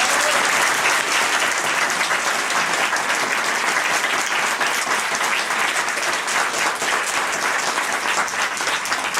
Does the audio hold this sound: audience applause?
yes